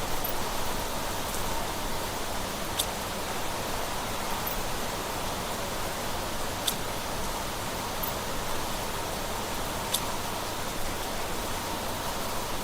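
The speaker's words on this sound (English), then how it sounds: "It's raining underground." Rain falling underground in the video game Planet Crafter, a steady soft hiss of dense rainfall throughout, with a few faint sharp ticks scattered on top and no talk.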